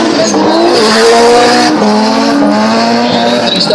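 At a drift event at Archerfield, a drift car's engine howls at high revs while its tires squeal continuously, loud and close, with the engine pitch shifting as it slides.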